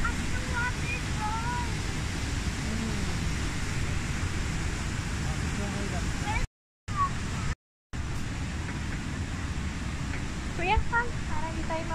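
A waterfall rushes as a constant broadband roar in a forest near Metro Vancouver, British Columbia, with two brief dropouts and people chatting faintly over it.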